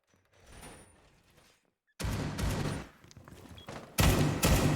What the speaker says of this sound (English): Finishing up a couple shots there to cleanly open up the wall.